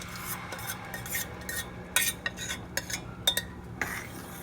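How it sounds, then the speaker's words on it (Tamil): A utensil scraping and tapping in a pan as mashed lentils are stirred into melted jaggery, soft irregular clinks and rubs over a low steady hum. "ஆட் பண்ணிட்டு நல்லா அப்படியே கிளறிட்டே இருங்க"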